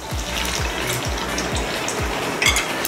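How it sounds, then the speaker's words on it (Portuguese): Bolinho de arroz rice balls fry in hot oil with a close, steady sizzle and crackle, while a regular series of soft low thumps pulses underneath throughout. "Eu gosto sempre de deixar o primeiro fritando até o final para ver consistência"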